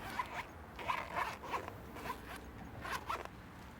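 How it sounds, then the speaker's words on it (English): A pouch zipper is pulled open and shut several times, quick rasping strokes in short bursts, close and fairly quiet with no talking. "This thing's got great zippers on it. Have a little listen."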